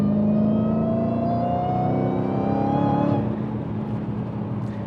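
A Dodge Hellcat with a roots-style supercharger pulls hard under acceleration, its engine note climbing steadily and loud from inside the car before the pitch drops with a gear change and the drone continues.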